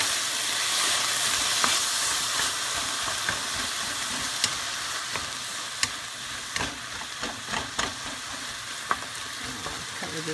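Hamburger steak and onions with a splash of Worcestershire sauce cooking in a pan, a loud continuous sizzle broken by sharp spatula scrapes and taps at irregular intervals, no talking.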